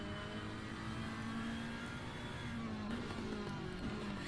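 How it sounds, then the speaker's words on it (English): A Ferrari race car in Assetto Corsa Competizione, heard on board at Laguna Seca. Its engine drones steadily, with slight rises and falls in revs, at a constant and fairly quiet level and with no talking. "I will say this is probably the game where the Ferrari sounds the best"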